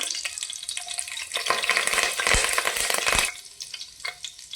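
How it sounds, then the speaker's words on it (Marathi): Cumin and mustard seeds sizzle in hot oil for pav bhaji, a steady crackling fry with sharp pops and spits rising in the middle, close by and with no voices. "तेल गरम झालेलं आहे याच्यामध्ये जिरे मोहरी टाकून घेऊया"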